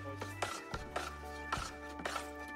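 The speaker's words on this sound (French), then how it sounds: "Donc, on s'assure de bien brasser." A homemade dandelion wine mixture with bentonite is stirred in a container, giving rhythmic swishing strokes about every half second over a steady low hum.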